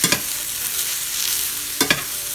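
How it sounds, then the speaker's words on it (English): Potatoes, green beans and browned bacon stirred in a hot pan, a constant sizzle with two pairs of spatula scrapes near the start and end. "you just want to give everything a good stir"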